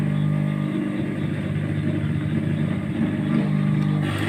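A sewing machine runs steadily while top-stitching a pair of baby shorts, giving a continuous, moderately loud motor hum with no pauses.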